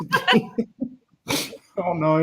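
A single close sneeze bursts out between bits of conversational speech at a casual chat, with people talking just before and after it.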